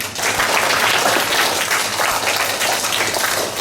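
An audience at a school declamation competition applauds a student's speech with a steady, dense wash of clapping that holds at even loudness throughout, with no voices over it.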